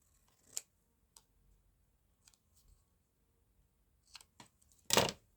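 Scissors trim paper for a collage, a few faint, sparse snips spread out in a quiet room, ending in one louder, sharper cut.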